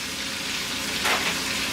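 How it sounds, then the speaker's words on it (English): Pork chops sear in a hot pan on high heat, giving a steady, dense sizzle that swells briefly louder partway through, close and continuous with no talking. "And we're just searing them."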